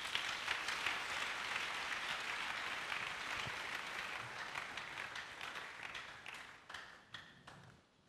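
A church congregation applauding and cheering to praise the Lord, dense sustained clapping from many hands filling the room, thinning toward the end into scattered claps.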